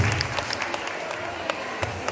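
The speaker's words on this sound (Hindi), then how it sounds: "इनका एक बार जोरदार तालियों से स्वागत करिए मंच पे" An audience claps steadily for a poet coming on stage at a kavi sammelan during a school's annual function, with dense applause filling the whole short stretch.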